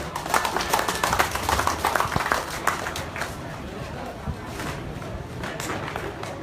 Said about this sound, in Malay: Satu tepukan untuk Presiden